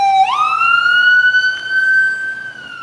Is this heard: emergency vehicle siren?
yes